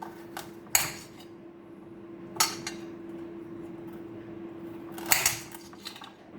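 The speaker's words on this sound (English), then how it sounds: "Just peel your carrots, chop off the ends," A kitchen knife chops the ends off peeled carrots in three separate crisp cuts against a board, with a steady low hum in the background and no talking.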